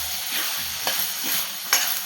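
Ground masala paste, made with onion, fries in hot oil for a rajma curry, giving a continuous close sizzle broken by soft stirring scrapes.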